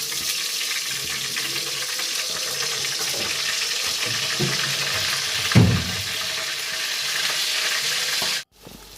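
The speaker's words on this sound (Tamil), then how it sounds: "அப்புறம் புதினா, மல்லிகீரை போட்டு இன்னும் நல்லா கிண்டணும்." Mint and coriander leaves being stirred into frying masala for kushka biryani, giving a continuous loud sizzle with occasional clanks and scrapes of the spoon, and a sudden cut near the end.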